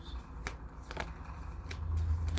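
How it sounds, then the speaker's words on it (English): A deck of large, foil-backed playing cards being reshuffled by hand, giving a few crisp riffling snaps and soft slides close up over a low background hum. "reshuffling these cards out."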